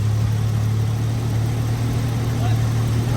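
Jeep engine with a new alternator idling steadily, a low even hum close by with no change in pace.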